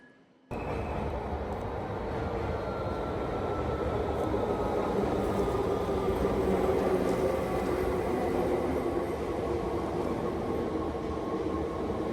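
A steady, loud rumble of a train running continuously at a railway station in the Netherlands, with a broad roar that holds evenly throughout.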